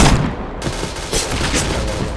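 Loud, dense gunfire in a multiplayer shooter game, a harsh wash of overlapping shots and blasts close by that keeps going without a break.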